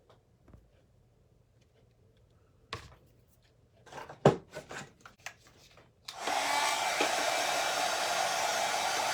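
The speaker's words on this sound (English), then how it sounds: "I think it's the heat gun, the heat thing." A heat gun blasts hot air steadily and loudly for the final few seconds while a pumpkin craft is being worked on, after quieter scattered handling knocks and taps.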